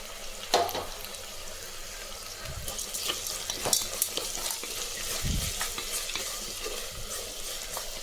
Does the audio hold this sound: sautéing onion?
yes